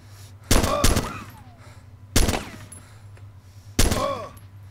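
Three loud bursts of gunfire at a zombie in the Arma 2 Overpoch mod, spaced about a second and a half apart, each a sharp crack over a steady low hum.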